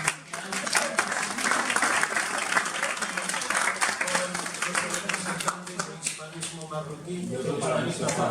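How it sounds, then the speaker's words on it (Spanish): Loud applause and clapping from an audience at a cultural talk event in Fez, a dense continuous patter of hands lasting throughout, with some voices mixed in. "Un aplauso fuerte para Tijan."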